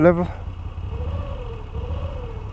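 A 2021 Moto Guzzi V7 Stone 850 motorcycle engine with a rough idle gets a small blip of throttle, a low steady rumble with a gentle rise and fall in pitch, after a brief voice at the start.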